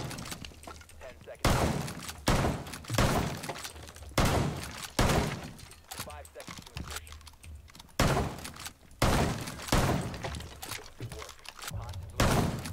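Glass breaks repeatedly in the video game Rainbow Six Siege on the Skyscraper map, a series of loud, abrupt crashing bursts with brief gaps, mixed with clattering game noise.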